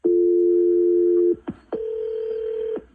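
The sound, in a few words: telephone dialing and ringing for a radio show call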